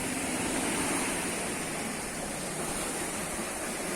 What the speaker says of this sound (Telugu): చూసారా ఫ్రెండ్స్ బీచ్ ఎట్లా పొంగుతుందో అవి వస్తున్నాయి చూడండి కెరటాలు ఫుల్గా వచ్చేస్తున్నాయి